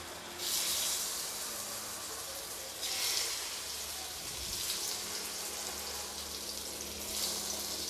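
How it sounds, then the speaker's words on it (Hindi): Pumpkin leaf besan fritters shallow fry in oil in a kadhai, giving a steady soft sizzle with louder hissing bursts as pieces go in, close and even throughout. "तो मैं इसको सेलो फ्राई करूँगी"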